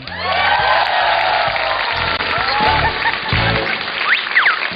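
A studio audience at a comedy contest cheering and applauding for a contestant, a dense loud wash of clapping with shouts and whoops throughout, close and continuous.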